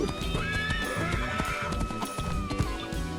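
A horse neighs and whinnies loudly over a busy, layered background with rhythmic clip-clop hoofbeats throughout.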